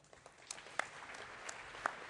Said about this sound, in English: An applause for them.